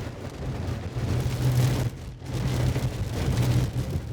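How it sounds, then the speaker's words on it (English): Heavy rain during a drive on bumpy roads, a dense continuous hiss of rain over a low vehicle rumble, steady and close with slight swells in intensity. "The heavy rain makes the bumpy roads even more challenging."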